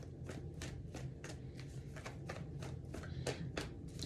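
Tarot cards shuffled by hand, a fast run of crisp, evenly spaced riffling taps, quiet and close, with no voices.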